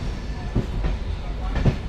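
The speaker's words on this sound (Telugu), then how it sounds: "మన ట్రైన్ ప్లాట్ఫామ్ 3కి అయితే వచ్చింది" Rolling into platform 3 at Nadikudi junction, a passenger train gives off a continuous low rumble with brief knocks and a couple of sharper clunks, close and steady.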